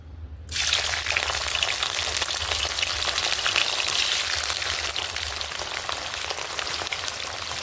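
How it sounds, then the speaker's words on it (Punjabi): Bitter gourds drop into heated mustard oil and erupt into a loud, dense, steady frying hiss that starts abruptly after a brief quiet moment and holds strong to the end. "ਹੁਣ ਅਸੀਂ ਇਹਦੇ ਵਿੱਚ ਪਾ ਦਾਂਗੇ ਕਰੇਲੇ ਇਹਨਾਂ ਨੂੰ ਅਸੀਂ ਭੁੰਨ ਲਾਂਗੇ"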